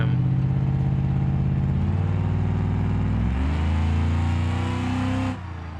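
A car engine in a driving game revs and climbs through the gears, steady and loud, its harmonic drone rising in pitch before it cuts off abruptly near the end.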